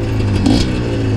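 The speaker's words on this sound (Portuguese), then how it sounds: "E o ronco da moto, ó," An MXF 250 TS trail motorcycle engine roars close and loud on a dirt trail, a steady throaty drone with a slight rising rev partway through and no talk over it.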